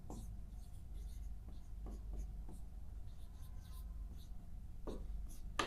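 A marker writes on a whiteboard during an English grammar lesson, producing faint intermittent squeaks and strokes over a low steady room hum, with no speech.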